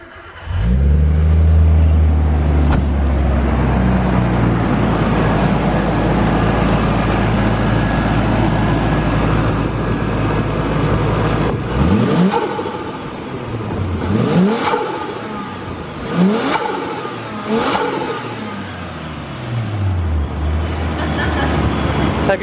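A Datsun 280ZX with an R34 turbo intake starts up and idles loudly close by, then revs several times in quick rising and falling bursts before settling back to idle.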